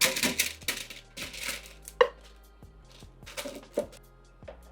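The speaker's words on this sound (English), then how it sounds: "Now that all the vegetables are seasoned, we are going to throw them in the air fryer tray" Seasoned vegetables for tomato soup are tipped into an air fryer tray, giving a series of close, soft thuds and sharp clatters at irregular intervals in an otherwise quiet kitchen.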